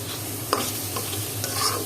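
Onion and tomato fry in a pan with turmeric and chili powder, a soft steady sizzle broken by two sharp scrapes of a spoon stirring, with no talking.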